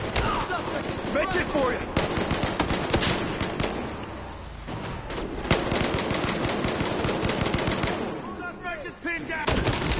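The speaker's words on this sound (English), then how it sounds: "Throw a grenade! Frag going in." Gunfire and a grenade blast in the Battlefield Hardline video game, with dense, rapid bursts of shots and loud bangs running throughout, close and busy, with shouted talk over the top.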